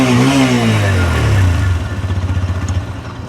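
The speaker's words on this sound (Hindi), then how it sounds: "और अगर आप अपाची के साउंड की बात करें तो इसका जो साउंड है" A TVS Apache RTR 160 2V motorcycle engine revs, a loud close growl that rises then settles into a pulsing, throbbing idle-like rumble.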